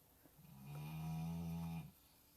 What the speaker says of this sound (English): That's Clifford snoring, in case you're wondering what you hear.